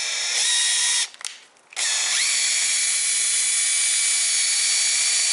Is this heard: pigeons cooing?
no